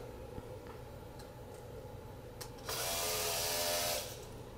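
A B9 robot arm runs with a sudden motorized whir that holds steady for about a second before stopping, after faint ticks and clicks, with no talking.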